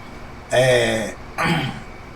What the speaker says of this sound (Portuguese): Tô um pouco meio com pigarra aqui.